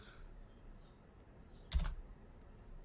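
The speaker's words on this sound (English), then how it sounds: "it says right there for you to type question mark" Keys on a computer keyboard are typed in a short, quiet burst of a few clicks, entering a chat command in Minecraft Bedrock Edition, with no other sound around them.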